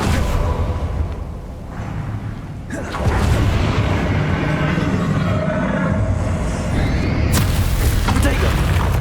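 Bombarda spell blasts in Hogwarts Legacy during the final boss fight, heavy rumbling booms with a sharp burst near the three-second mark and another near the end, under shouted spell incantations.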